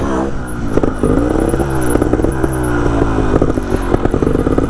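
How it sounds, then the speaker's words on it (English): Motorcycle engine revving steadily at close range while the rider warms up with sit-down wheelies, the pitch rising and falling in repeated throttle blips with wind noise over it. "we're going to warm up just on some normal wheelies"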